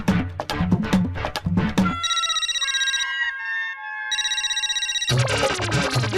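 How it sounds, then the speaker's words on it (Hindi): A telephone rings unanswered with a loud electronic melodic ringtone that repeats its tune in bright, pulsing phrases for several seconds, with no one talking. "मैं कब से भिड़े भाई को फोन कर रहा हूँ, वो फोन ही नहीं उठा रहे हैं"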